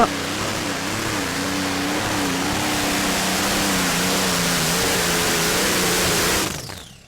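A loud, steady engine roar with a wavering pitch, the heavy drone of a modified pulling tractor's twin-supercharged V12 Allison engine at a tractor pulling competition, then it cuts off and fades near the end.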